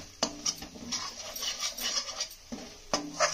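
A metal spoon stirs turmeric and coriander powder in a cooking pan, with a few sharp clinks against the pan and soft scraping between them, close and fairly quiet.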